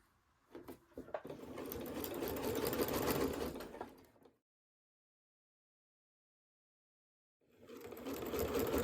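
Sewing machine stitching fabric for a Shoo Fly quilt block, starting after a few clicks and running steadily for about three seconds, then falling silent before a second steady burst of stitching begins.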